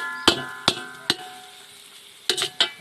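Pork cracklings stir-fried with chili paste in a pan: five sharp spatula clacks against the pan, two in quick succession, rise over a low, steady sizzle, close and fairly loud, with no talking.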